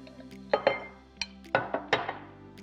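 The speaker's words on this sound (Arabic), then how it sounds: "نقلب دول الأول كده مع بعض، شوية من الدريسنج كده" Fattoush salad vegetables with mint and parsley get tossed with dressing in a bowl, giving several sharp clinks and knocks of utensils against the dish in uneven bursts, close and quiet with no talking.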